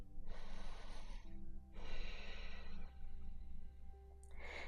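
Slow, audible breaths in and out during a yoga half-split hold, a few long exhalations close up with brief pauses between them.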